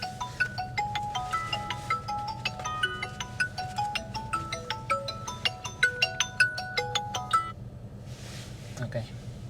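A phone ringtone plays a quick, bright, repeating melody of plinking tones inside a running car, with low engine rumble beneath and a voice talking over it.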